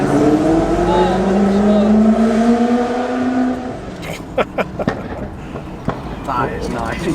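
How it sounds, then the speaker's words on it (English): A GT40 replica sports car at a classic and sports-car drive in Cheshire, its engine note falling away before a burst of sharp exhaust pops and crackles, with people talking nearby. "Pops and crackles."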